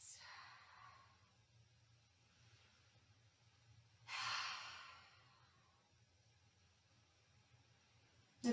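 Two slow, deep breaths, each a soft airy exhale rising and fading, spaced several seconds apart in a quiet room during a kids' yoga session.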